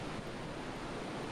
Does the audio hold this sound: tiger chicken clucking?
no